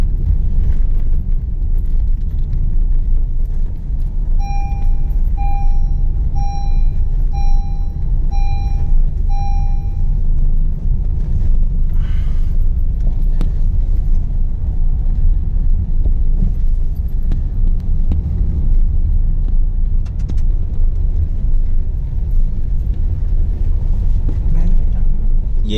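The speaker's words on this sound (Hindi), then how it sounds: "गाड़ी जो है वो फर्स्ट गियर में लेके चढ़ानी पड़ती है, और अब हम ऊपर से नीचे की ओर उतर रहे हैं।" A car descends a steep road in first gear, its engine and road rumble steady and loud throughout, with a brief run of evenly spaced electronic beeps early on.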